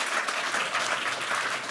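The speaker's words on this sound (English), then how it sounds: "Big round of applause for Miro and Simon." An audience applauds two speakers at a cybersecurity conference talk. A brief, even wash of many hands clapping, steady and moderately loud, with no voices over it.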